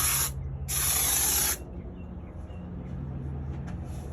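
A spray can of foam insulation being sprayed inside a steel enclosed trailer under camper conversion, two loud hissing bursts of about a third and then nearly a second, followed by quiet room hum.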